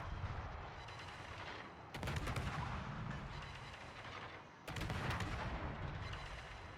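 Naval gunfire from a Gearing-class destroyer in a naval combat video game: a sustained loud roar of cannon fire, with heavier salvo bursts breaking in near two seconds and again near five seconds.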